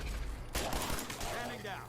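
Rapid gunfire rings out in Fallout 4 as a group of feral ghouls is fired upon, a sudden burst of overlapping shots that starts about a quarter of the way in and keeps going under an excited voice.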